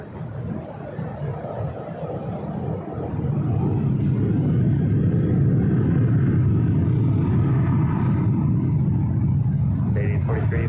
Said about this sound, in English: Southwest Airlines Flight 2803 heading to Dallas Love Field